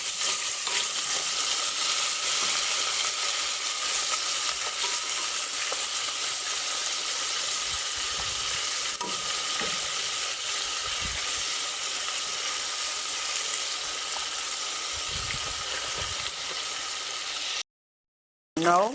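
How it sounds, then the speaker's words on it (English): Jamaican-style chicken fries in a pot of hot oil with a loud, steady sizzle and crackle that runs nearly unbroken, a few bubbling bursts along the way, before a brief silence near the end. "Here, my chicken in the pot frying."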